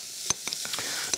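Steady hiss of food frying in hot oil, with scattered sharp pops and crackles over the constant sizzle.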